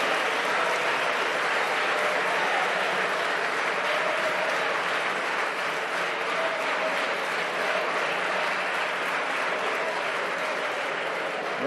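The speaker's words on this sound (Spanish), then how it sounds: "No esperaba un aplauso del Grupo Parlamentario Popular" Members of the Spanish parliament applaud in the chamber, a sustained, even wash of clapping from many hands that holds steady at moderate volume.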